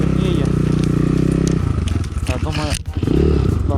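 A BSE 250 enduro motorcycle runs loud and close on a forest hill ride, its engine droning steadily, then revving and sputtering unevenly with a brief dip before picking up again.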